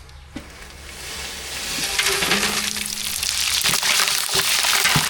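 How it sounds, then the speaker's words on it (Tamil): Cinnamon and whole spices fry in hot oil for tempering, a close sizzling crackle that grows steadily louder with scattered small pops. "பட்டை வகையெல்லாம் நல்லா பொரிஞ்சிருச்சு"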